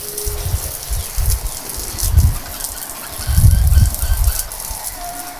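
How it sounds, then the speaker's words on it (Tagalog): Chickens cluck and squawk in a backyard breeding pen, irregular bursts of low fowl calls with steady background noise. "May mga alaga rin nga po pala tayong manok dito"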